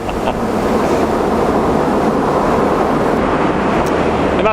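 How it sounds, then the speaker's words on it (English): Ocean waves wash onto a beach with the incoming tide near Broome in Western Australia, making a steady, loud, close rush of surf that continues for the whole span with no voices. "It must have been the 7th wave, because it came in a lot further than what the other waves did"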